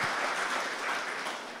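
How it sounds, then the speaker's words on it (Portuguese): Church congregation applauding during an evening service, a steady wash of clapping that holds level for the whole short stretch with no voices over it. "Dá mais um aplauso ao Senhor aí."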